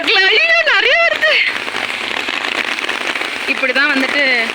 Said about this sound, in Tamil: நிறைய மழை சவுண்ட் கேக்குதா?